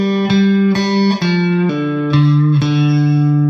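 An electric guitar plays the main riff of a song, a run of about seven clean, sustained notes picked one after another, close and alone.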